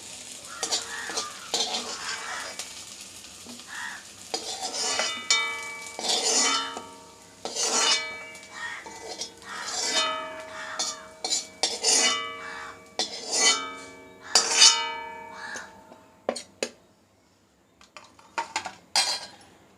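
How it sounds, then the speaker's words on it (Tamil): Onion and garlic being sautéed in a pan for pudina pachadi: repeated scraping, clanking spatula strokes and metallic clinks over a soft sizzle, close up, irregular and without talk. "நமக்கு இந்த வெங்காயமும் பூண்டும் இந்த அளவுக்கு வதங்கினா போதும்"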